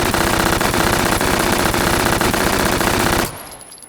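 A rapid, continuous burst of automatic gunfire from an MP5-family gun rattles loudly for about three seconds at an outdoor range, then cuts off abruptly into quiet.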